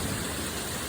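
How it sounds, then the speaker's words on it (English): Heavy, wind-driven rain blowing sideways, a steady broadband wash of falling water that fills the whole short clip with no talk over it. "Boy, we're getting some rain here. It's raining, raining, raining."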